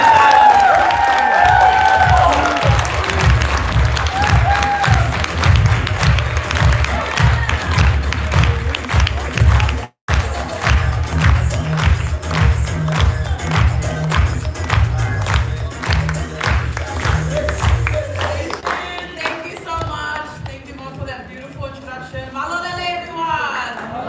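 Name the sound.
audience applause and cheering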